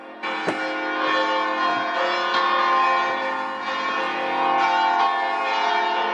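Church bells in Malta ring in a loud, continuous peal with layered, sustained tones that swell and fade over several seconds, close by and with no talking.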